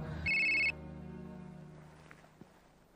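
A telephone rings once with a short, loud electronic trill that cuts off sharply, leaving a fading low hum and a couple of faint clicks.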